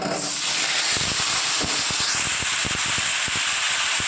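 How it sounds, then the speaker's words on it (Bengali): Three large cut potatoes with bay leaf and dried chilli drop into hot oil, giving a loud, steady sizzling hiss scattered with sharp crackles and pops throughout. "ওই তেলেই ফোড়নে দিয়ে দেবো তেজপাতা, শুকনো লঙ্কা, আর দিয়ে দেবো কেটে রেখেছিলাম আলু"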